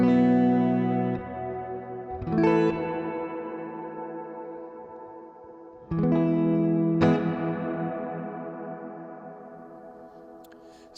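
Sustained guitar chords bathed in long-decay reverb, each ringing and slowly fading over several seconds before the next strum, with a smooth lingering tail.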